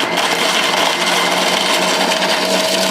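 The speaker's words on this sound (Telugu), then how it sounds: "కొంచెం వేసేసి మిక్సీ పట్టేసేయండి." A mixer grinder blends dry fruits with water into a drink, giving a steady, loud, unbroken whirring drone for the full three seconds with no voices.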